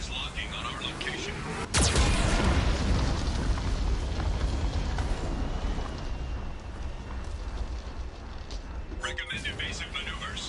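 Geth cannon fire in the Mass Effect video game, a sudden loud blast followed by a long, heavy rumbling roar that fades slowly, with a sharp crack near the end.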